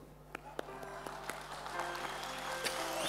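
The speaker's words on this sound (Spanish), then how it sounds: "Solito me voy a aplaudir." One person claps alone during a Spanish-language church sermon: a handful of sharp, irregular claps, close and distinct over a low background hum.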